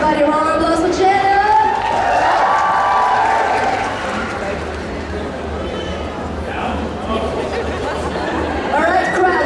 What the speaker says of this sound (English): Everybody round of applause for Jenna.